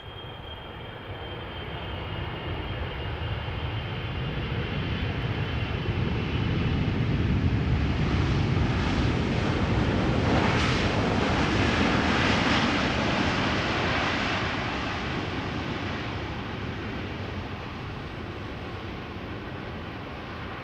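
A Boeing 777-300ER jet airliner arriving at Amsterdam Schiphol, its engine roar rising steadily as it nears, peaking loud and close midway, then fading gradually as it passes.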